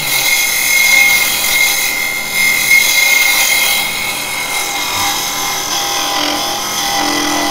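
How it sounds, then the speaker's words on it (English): A carbide GT2 box hollower scrapes inside wood spinning on a lathe, giving a steady, continuous rasping hiss with a faint whine, close and loud throughout, no talking. "Now I'm in a scrape mode because obviously you can't get a push cut down inside this"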